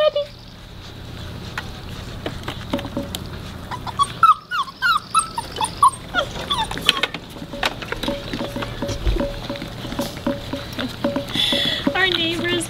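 Weimaraner puppies whimper and yelp in short, scattered cries over a steady low hum, with some soft pattering and occasional voices in the background.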